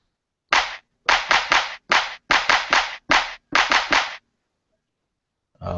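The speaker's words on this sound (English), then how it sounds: "So that's a clap." A crisp, dry electronic clap sample from a Maschine Studio drum machine repeats a dozen times in a syncopated pattern, each hit short and punchy, then stops into silence.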